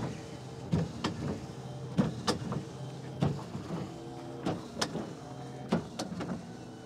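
Powered bed cover on a Rivian R1T pickup truck in motion, a quiet electric motor whir broken by repeated short clicks and mechanical clunks at an uneven rhythm.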